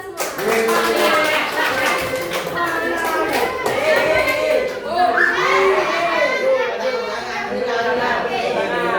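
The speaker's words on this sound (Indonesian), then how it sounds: "tepuk tangan untuk kita semua" Classroom of ninth-grade students at an Indonesian Islamic junior high school breaking into lively applause mixed with children's chatter and shouts, loud and continuous, with a teacher's voice heard over the clapping.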